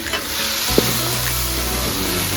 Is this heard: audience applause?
no